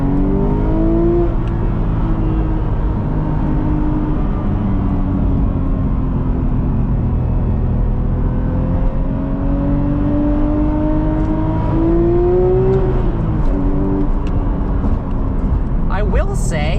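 A Porsche Speedster with a manual gearbox drives along, its engine droning loudly up close with rising and falling pitch as it revs through gears and shifts, a burst of noise near the end.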